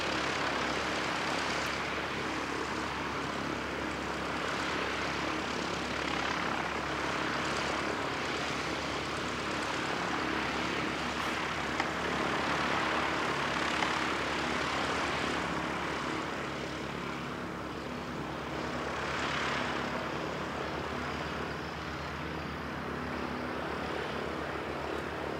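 A light propeller plane at an aero club runs up on the runway for takeoff, its engine a steady droning hum at moderate distance that swells and fades slightly, with outdoor air noise and no talking.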